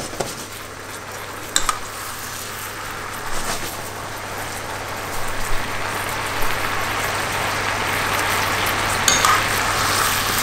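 Teriyaki sauce made with mirin simmering in a pan: a steady close hiss and bubbling sizzle throughout, broken by a few light clinks and scrapes as it is stirred.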